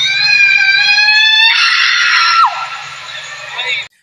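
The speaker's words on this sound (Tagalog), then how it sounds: "narinig ang lakas ng kanyang sigaw" A female volleyball player's sharp, high-pitched scream of pain after a landing during a match rings out loudly for a couple of seconds, then breaks off into a strained, fading cry.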